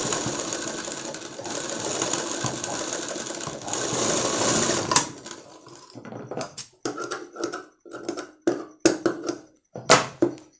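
Sewing machine stitching thread piping onto a blouse sleeve, a steady close whir for about five seconds, then short stop-start bursts of stitching separated by brief pauses.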